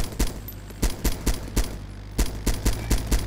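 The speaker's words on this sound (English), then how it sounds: "Is that you shooting at him?" Gunfire from the military shooter game ArmA 2 rings out in quick, evenly spaced automatic bursts, loud and close, with a steady hum underneath and no talking.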